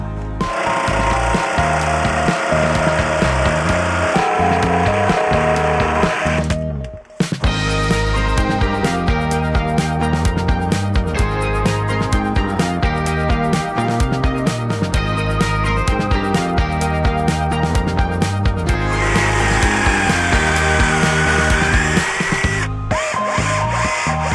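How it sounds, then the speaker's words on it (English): A jigsaw cuts panel pieces outdoors while building lightweight bulkhead cupboards for a Transit campervan. The rapid reciprocating buzz runs loud and nearly continuous, with one short break early on. "I'm basically just standing outside with the jigsaw, just cutting off progressively more bits, and Abby's in here"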